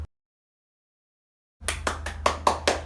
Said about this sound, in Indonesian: tepuk tangan untuk teman kita Deko